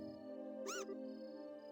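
A cat meows once in the video game Trails in the Sky, a short rising-falling cry over a steady background music hum.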